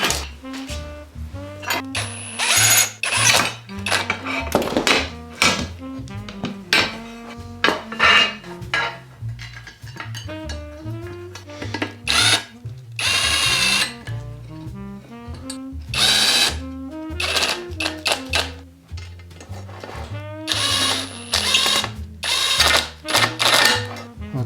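An electric screwdriver drives screws into the aluminium frame of an Atomstack X20 Pro laser engraver during assembly, short whirring bursts starting and stopping repeatedly between clinks of metal parts and screws being handled, close and loud.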